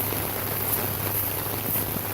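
Steady rain falling outdoors near a small creek after a dry spell, a dense continuous patter with no voices over it.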